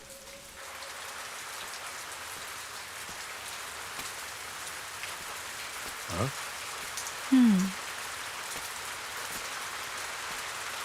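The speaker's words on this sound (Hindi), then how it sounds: "बारिश हो रही है" Steady rain patters across the whole stretch, a soft constant hiss, with a brief voice and a couple of short louder sounds partway through.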